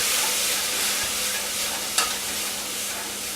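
Tomato paste is stirred into a sizzling pot with a spoon while cooking cioppino, a steady hissing fry with a soft scraping stir and one brief clink of the spoon near the middle, close and continuous.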